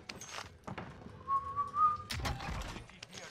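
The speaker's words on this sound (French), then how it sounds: "Pourquoi tu siffles?" A person whistles a steady, wavering high note for about a second, with faint scuffs and rustling around it.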